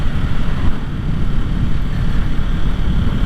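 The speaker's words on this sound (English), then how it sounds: "I noticed that at about 60 the wind starts getting real bad." Heavy, constant wind roar buffets the microphone while a Yamaha R3 motorcycle rides at about 60 mph, a dense low rumble that drowns out any engine detail.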